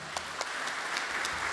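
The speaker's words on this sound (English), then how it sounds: "Big applause, please." A crowd applauds steadily at a student game awards gala, many hands clapping in a dense, sustained patter heard from a moderate distance.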